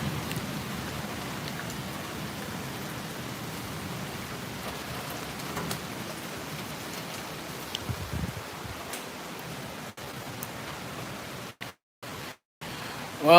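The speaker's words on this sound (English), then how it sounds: "There's really heavy downpours to my west, and I mean really heavy downpours." Heavy tropical rain pours down steadily as a dense, even hiss close by, with a brief lower rumble near the end and the sound dropping out in short gaps.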